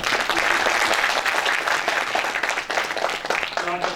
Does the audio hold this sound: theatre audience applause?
yes